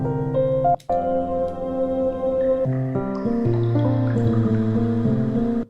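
Water-droplet sounds sampled in a lo-fi hip hop track, plinking over steady sustained chords and bass in a loud, continuous mix.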